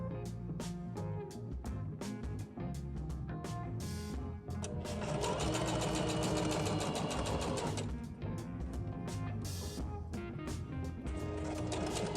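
A sewing machine stitching a folded skirt hem, a rapid mechanical chatter running in bursts with brief pauses between stretches of stitching, close and steady.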